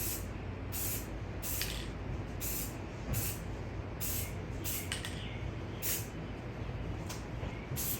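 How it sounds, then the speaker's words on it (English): Repeated short hissing bursts of an aerosol spray paint can painting a gun, roughly every half second, steady and close, over a constant low background rumble. "I'm going to just randomly spray the next color"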